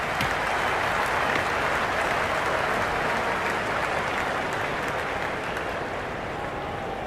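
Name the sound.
cricket stadium crowd applauding, from video game Cricket 26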